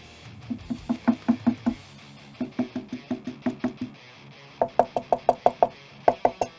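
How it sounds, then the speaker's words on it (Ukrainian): Rapid bursts of sharp tapping knocks in rhythmic groups, each followed by a faint buzzy rattle from the decorative plastic trim of a JBL Northridge E80 speaker, loud and close with short pauses between runs. "які виникають е, дріб'язкові такі резонанси на цих декоративних пластикових елементах"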